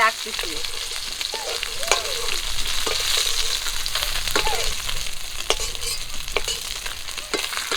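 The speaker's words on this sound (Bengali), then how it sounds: "মাছগুলো ভাজা" Sea fish fry in hot oil, giving a dense, steady sizzle with crackles and scraping as the pieces are turned, close by, with faint sounds in the background.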